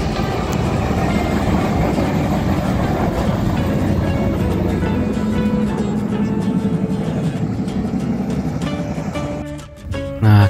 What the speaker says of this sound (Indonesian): ini kereta apa ya, teman-teman? Tuh, cuman bawa satu gerbong datar,